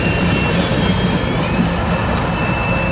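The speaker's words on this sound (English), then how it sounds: "maintenance away, ballast train, heading east on Main 1" A maintenance ballast train rumbles past at a steady roar, its wheels grinding along the rails with a thin metallic squeal drifting above.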